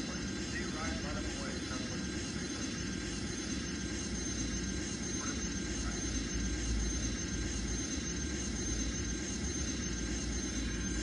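Airliner landing in the mobile game Airline Commander, a constant loud engine roar and rushing drone filling the whole stretch without letup, close and steady.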